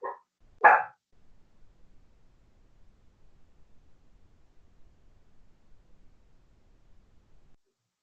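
A female pinscher dog lets out two sharp, close barks right at the start, followed by near silence with only a faint low background hum.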